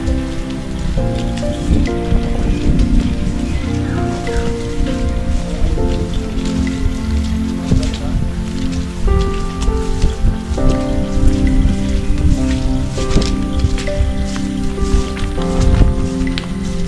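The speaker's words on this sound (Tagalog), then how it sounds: "Abutan pa tayong ulan." Heavy rain falls in a forest, a loud, dense, continuous patter and hiss of drops on leaves and surfaces, steady throughout with some rustling and a few faint thumps underneath.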